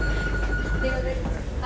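A metro train at a station, a steady low rumble with a sustained tonal whine running through the short moment, heard close and continuous.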